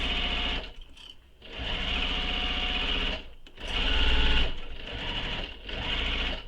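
Domestic sewing machine stitching a bag seam, including back-stitching at a box corner: steady, loud whirring runs in three bursts with brief pauses between them, no talking.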